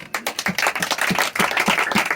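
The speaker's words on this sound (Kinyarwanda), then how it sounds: "ikomera amashyi" A church congregation clapping together in a quick, loud, rhythmic beat, dense hand claps repeating steadily and close for a couple of seconds.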